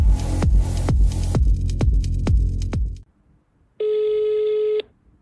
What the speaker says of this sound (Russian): Звонок прогнозу.